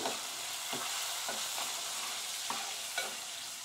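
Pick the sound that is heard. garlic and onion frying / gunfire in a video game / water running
garlic and onion frying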